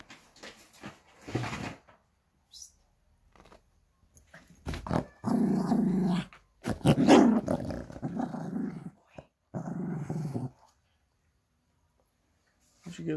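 A dog growls in close, rumbling bursts of varying length, broken by short pauses, with people talking nearby.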